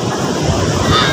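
Ocean surf on a wide, clean beach in Pangasinan, a loud continuous roar of breaking waves with heavy wind noise on the microphone.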